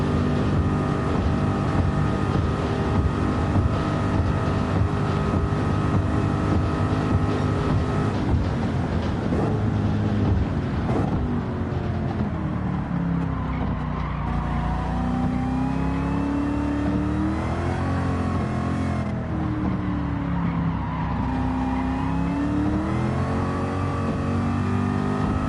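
A Ford Maverick race car engine in a TransAm-rules racing video game runs loud and continuous, with its pitch rising and falling through repeated gear changes across the whole stretch. No voices are heard.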